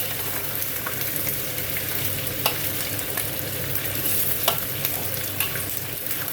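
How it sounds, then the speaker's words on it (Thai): Braised three-layer pork leg and belly frying in a pan, a continuous close sizzle with small pops and crackles throughout. "เราก็เอาคากิจะสามชั้นมาทอดค่ะ"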